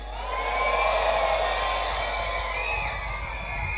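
A church congregation shouts praise to God together, a loud sustained wash of cheering and whooping voices filling the room for several seconds.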